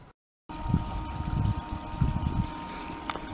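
Water running steadily through a gold sluice at a creek, a continuous close pouring and trickling wash after a brief silent gap at the start.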